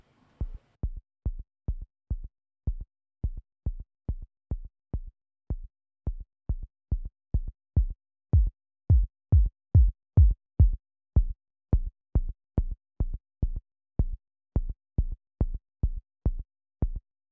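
Short, soft synth drum thumps from a self-resonant filter on a Repro-1 synth repeat in a steady rhythm, quiet and resonant, like a tuned filter pinging on each beat.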